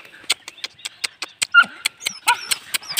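A frightened dog gives a rapid series of short, high whimpers and yelps, close and fairly loud, about a dozen sharp cries in quick succession.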